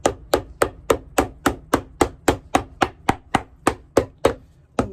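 A hammer strikes leather filler placed between layers of brown suede Alden boots in a steady run of about fifteen sharp, evenly spaced taps, close and fairly loud, with no talking.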